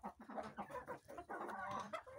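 Three roosters, one a sultan breed and two bare-necked, cluck in a short close burst of overlapping calls and squawks from a backyard flock, with no talking over them.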